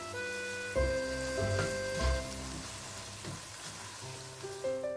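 Fried noodles being stirred with oyster sauce, fish sauce, soy sauce and Worcestershire sauce, a soft steady sizzle with a few utensil knocks, while sustained musical tones play throughout.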